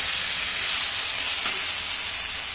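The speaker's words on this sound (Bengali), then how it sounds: "আমি কিছুক্ষণ ধরে সবজিটা ভেজে নিয়েছি ভালো করে।" Mixed vegetables frying in a pan give a steady, close, dense sizzle that holds evenly throughout, with no voices.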